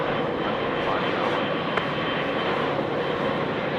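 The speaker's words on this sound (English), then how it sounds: "34 left, clear for takeoff." An airliner takes off from runway 34 left at Sydney Airport, its jet engines producing a steady, loud, broad roar that holds evenly throughout.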